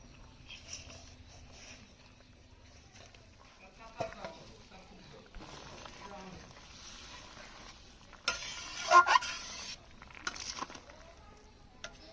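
Fish sizzling as it is added to a hot pan for curry, a low steady frying hiss with stirring and clatter of a utensil, louder spatter bursts partway through.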